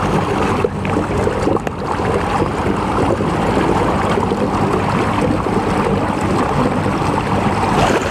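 A small outboard motor drives a boat on the River Thames near Chertsey Weir, a steady, close, loud engine drone with water wash that stays even throughout.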